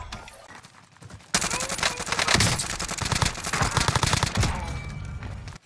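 Rapid automatic gunfire erupts suddenly in a shooter video game, dense bursts of shots continuing for several seconds, loud and close, with no talk over it.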